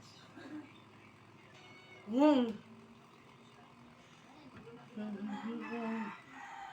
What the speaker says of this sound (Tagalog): Pati mga pusa na bulabog